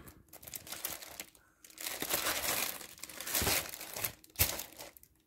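Close crinkling and rustling of a plastic bag as a boxed die-cast model car is pulled out, in uneven bursts with brief pauses, no voices.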